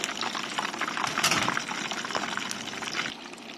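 A fish deep-fries in hot oil until golden and crisp, giving a dense, continuous bubbling hiss with small pops. It is close and steady throughout.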